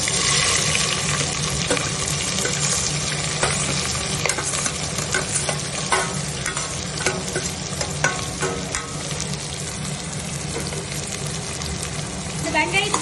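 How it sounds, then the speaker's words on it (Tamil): Chopped onions sauté in spiced oil in a pressure cooker pot for mutton biryani. A loud, steady sizzle runs throughout, with frequent scrapes and clatter from stirring. "வெங்காயத்தை போட்டதுக்கு அப்புறம் அதை கொஞ்சம் வதக்கி விட்டுருங்க."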